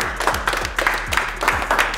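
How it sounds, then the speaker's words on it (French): Hand clapping in a casual indoor setting at the end of a game round, a short burst of applause with several claps audible, fairly close and steady, no talk over it. "Là, je vais applaudir."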